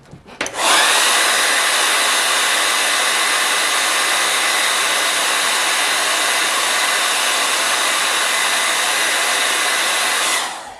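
Hair dryer blowing on a wet watercolor painting, a loud, close, steady whoosh that starts abruptly, runs unbroken for about ten seconds, then cuts off, with no speech.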